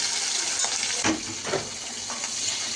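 Prawns sizzle in hot oil in a pan for a Bengali prawn dish, with a steady bright crackle and a few sharper spits and stirring clatters close by.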